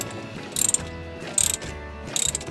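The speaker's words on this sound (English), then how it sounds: "when I go to tighten this, there is a 15mm wrench that will help me hold it and keep it from spinning" A ratchet tightens the sway bar link bolts on a 2003 Toyota Camry 2.4L while a 15mm wrench holds them. Three short bursts of rapid clicking come up close and clear against low background noise.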